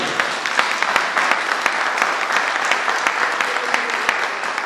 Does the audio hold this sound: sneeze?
no